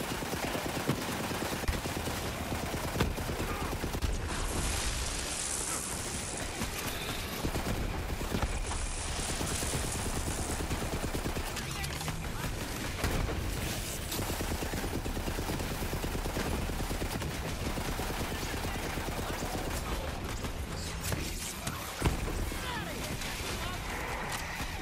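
SMG fire in Borderlands 3, a dense continuous stream of rapid automatic shots at steady loudness through most of the stretch, with game effects mixed in.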